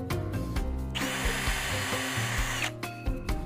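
A power drill bores a pilot hole into a multiplex plywood panel, its motor whine rising into a steady, loud grind through the wood for about two seconds, bracketed by short start-up and stop bursts.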